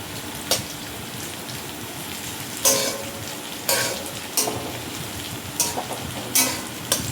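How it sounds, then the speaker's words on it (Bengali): Chopped onion sizzles in hot oil in a pan, a continuous crackle with occasional scraping stirs and clinks heard up close. "দেখো পেঁয়াজ কুচি দিয়ে দিলাম"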